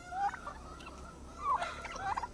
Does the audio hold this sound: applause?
no